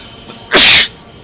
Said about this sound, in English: Sneeze. You can't sneeze.